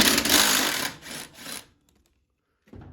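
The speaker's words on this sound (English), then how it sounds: "I'm taking off this bolt" A power tool spins out a bolt from the chute bracket on a Cub Cadet/MTD snowblower: a loud buzzing burst, then a shorter second run, then near silence before a faint clunk.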